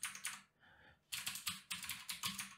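Quick bursts of clicking keystrokes on a computer keyboard while a username is entered, a short flurry, a brief pause, then several more rapid groups, close and fairly quiet with no talk.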